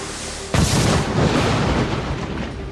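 A gunboat firing at an underwater ROV in a sci-fi audio drama: a single sudden loud blast hits after a short low rumble, then a long, dense reverberant roar that slowly fades.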